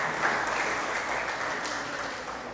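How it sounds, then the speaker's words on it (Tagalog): A church congregation claps together in sustained, dense applause, loud and even throughout, with no speech over it. "Isang palakpak muli sa Panginoon."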